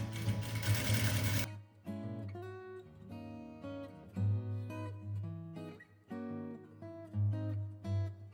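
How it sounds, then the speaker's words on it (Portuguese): A sewing machine quilts a pocket for an embroidered maternity bag, stitching in short close bursts with pauses between runs, alone and loud, after a brief noisy start. "vou iniciar com o quilt, com o retrocesso no início e no fim."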